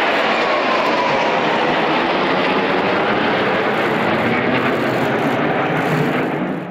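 Aircraft roaring low overhead during a public air display at national celebrations, a loud, continuous engine drone that fills the whole stretch and eases slightly at the very end, with no talking.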